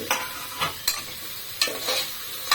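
Ridge gourd pieces and chana dal cook in a pan as a spatula stirs with several close, scraping strokes over a soft sizzle, without speech.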